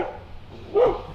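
A pet dog in a camper van gives one short, loud bark at people passing on the street.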